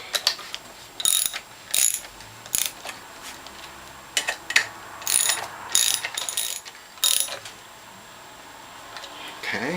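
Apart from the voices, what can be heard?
ratchet tightening bolts on Norwalk juicer base plate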